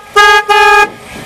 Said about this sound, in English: Hit me the horn.